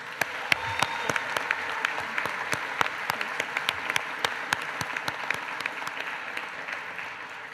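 A graduation ceremony audience applauds with steady, sustained clapping throughout, moderately distant and filling the hall, with no talking over it.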